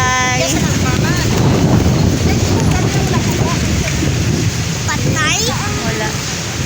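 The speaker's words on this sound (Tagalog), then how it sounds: "It's very windy" Strong wind roars steadily across the microphone outdoors on a Philippine holiday, a loud continuous rush throughout, with a person speaking faintly in places.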